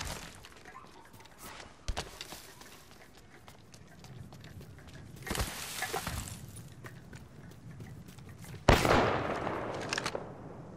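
Gunfire crackles in a video game, with sharp shots and a few bursts, close and loud, including a strong blast near the end, over background game noise.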